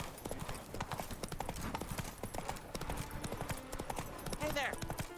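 The horse Roach gallops in The Witcher 3, a fast, steady clip-clop of hooves heard faintly throughout, with a brief whinny near the end and a voice talking over it.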